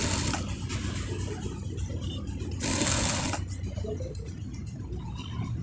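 A sewing machine stitches the collar band of a fotua in a steady mechanical whir, rising briefly to a faster, louder run midway before settling back into even stitching.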